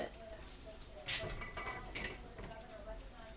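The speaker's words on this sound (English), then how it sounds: "I have my jars in the pot." Glass canning jars knock and clink together in a pot, two brief bright clinks standing out against quiet kitchen background.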